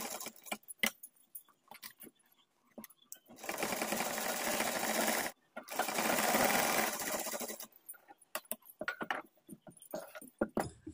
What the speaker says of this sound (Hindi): यहाँ से अब हम एक बूट की सिलाई लगाएंगे पूरे गले में, यहाँ से हम सिलाई लगाएंगे इस तरह से, सिंगल बूट की सिलाई।